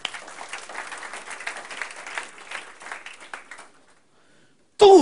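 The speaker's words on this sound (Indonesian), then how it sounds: "Tepuk tangannya dahsyat." Church congregation applauding during a worship service, a steady dense clapping that runs for about four seconds, thins and fades to near silence, then an abrupt loud burst at the very end.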